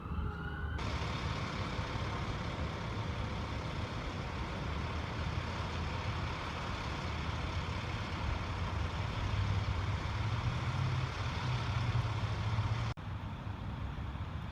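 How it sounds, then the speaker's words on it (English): Emergency vehicles, fire trucks and ambulances, arrive with sirens and heavy engine rumble heard from outdoors at a moderate distance, a steady wail over low truck noise that cuts off near the end. "Well, there's fire trucks and ambulances showed up while I was finding this."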